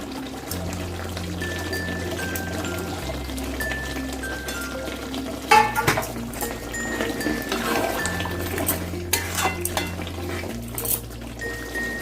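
Cubed onion and capsicum are stirred in a kadai over a high gas flame while cooking kadai chicken, with scattered metallic scrapes and light sizzle beneath steady background music.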